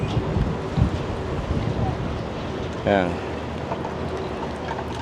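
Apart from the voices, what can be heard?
strong wind on the microphone outdoors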